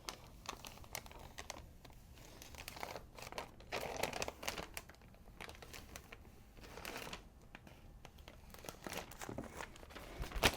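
Vinyl decal transfer sheet being peeled back from a wedding sign, with soft crinkling and crackling of plastic film in uneven bursts, close and faint.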